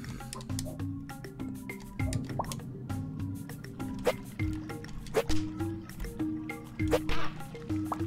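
Water drips and plops in a game cave, scattered liquid drops at an irregular rhythm over a low ambient music bed, fairly quiet and close.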